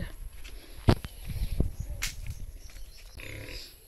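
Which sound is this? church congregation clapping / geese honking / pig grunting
pig grunting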